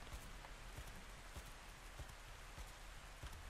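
Steady rainfall in the video game ARK Survival Ascended, a dense continuous patter of drops with faint scattered ticks, moderately quiet and unbroken throughout, with no voices.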